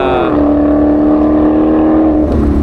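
A loud race car engine revs and holds a steady high-pitched drone up close, then the pitch drops as it eases off near the end.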